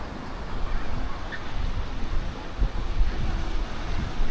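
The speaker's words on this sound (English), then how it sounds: "the waves break out there on the rocks" Ocean waves break on rocks offshore at a Playa del Carmen beach, giving a continuous broad wash of surf with wind gusting over it. No voices.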